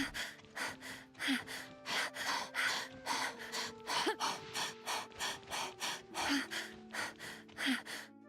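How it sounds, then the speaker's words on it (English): Heavy, rhythmic breathing from a video game character, a steady run of loud gasping inhales and exhales repeating about twice a second, close and alone with no talk over it. "there's so much breathing"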